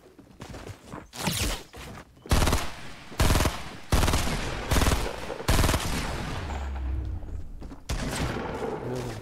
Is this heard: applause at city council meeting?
no